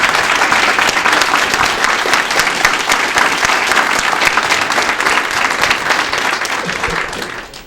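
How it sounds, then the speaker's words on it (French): Loud, sustained audience applause fills the hall, many hands clapping densely and steadily for several seconds before tapering off at the end. "il mérite sûrement une bonne main d'applaudissements"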